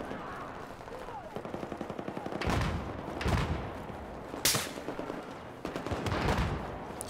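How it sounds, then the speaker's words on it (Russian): Battlefield 4 gunfire rattles in repeated automatic bursts with heavier booming shots between them, loud and continuous across the whole stretch of the point-capture match. "Кто стреляет-то? Откуда?"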